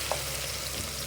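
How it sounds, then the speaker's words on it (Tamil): Vegetables sauté in a hot pan for a veg biryani, giving a brief, steady, soft sizzle with one light scrape at the start. "நல்லா வதக்கணும்."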